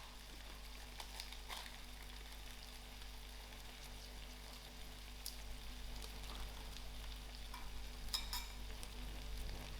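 Rice and vegetables in a pan over very low heat, seasoned with paprika and cayenne, make a faint, continuous sizzle with occasional light ticks of stirring.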